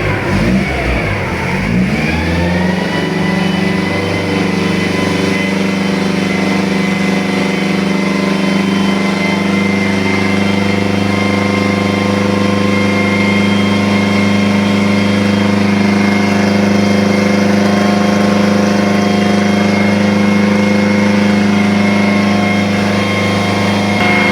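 A fiberglass boat's engine runs steadily during a test, starting with a brief rough catch and then settling into a loud, constant droning hum that holds without a break throughout.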